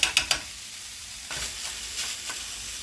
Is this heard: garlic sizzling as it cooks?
yes